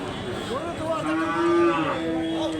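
A cow moos at a village cattle market: one long, drawn-out, fairly close low call rising and falling over a busy murmuring background.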